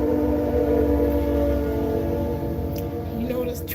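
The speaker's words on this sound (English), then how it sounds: "this train got to be in my videos" A train passing nearby gives a loud, steady rumble with sustained horn-like tones over about four seconds, fading slightly toward the end, with a voice heard faintly under it.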